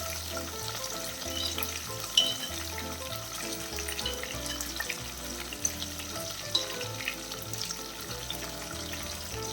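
Prawns frying in a pan over medium to low flame, a steady close sizzle with occasional stirring clicks and small pops scattered through, no voices.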